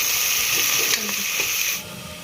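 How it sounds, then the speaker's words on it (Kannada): Onions frying in oil over a high flame give a loud, steady hiss with a few soft knocks of stirring. The sizzle drops noticeably near the end. "ಎಣ್ಣೆ ಒಳಗ ಇದ್ರ ಫ್ರೈ ಮಾಡ್ಕೊಳ್ಳೋದ್ರಿ ಮಿಕ್ಸ್ ಮಾಡ್ಕೊಂತ ಹೈ ಫ್ಲೇಮ್ ಒಳಗ ಫ್ರೈ ಮಾಡ್ಕೊಳ್ಳೋದ್ರಿ"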